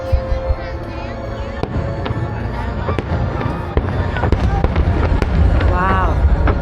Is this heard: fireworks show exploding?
yes